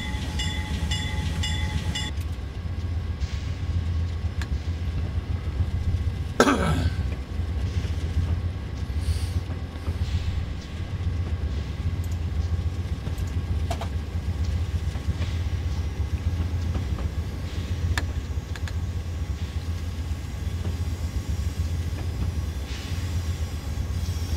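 An Amtrak Surfliner train runs in Train Simulator 2018, a continuous low rumbling drone of the moving train with steady rolling noise, a brief rising squeal or horn-like swoop near the start, and no talking.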